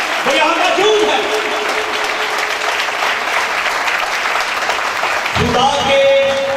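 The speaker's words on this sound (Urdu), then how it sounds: "تو خدا کے لیے تالیاں, زور سے تالیاں." A church congregation at an annual convention bursts into loud, sustained applause, a dense wash of clapping that fills the space throughout.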